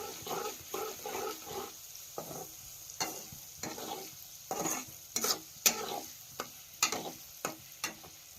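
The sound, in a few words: onions frying in oil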